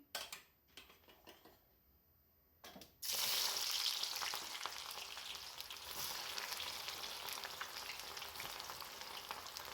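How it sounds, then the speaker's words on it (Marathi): Sliced onions go into hot oil for veg biryani: after a few quiet clinks and a brief pause, a loud, dense crackling sizzle bursts in and holds steady at close range. "इकडे आता आपल्याला कांदा तळून घ्यायचा आहे तेल पण गरम झालेलं आहे"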